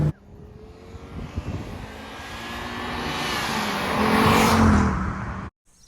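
A 1980s Audi Ur Quattro's turbocharged engine runs and builds in revs, a loud rising roar with whine that swells toward the end before cutting off abruptly.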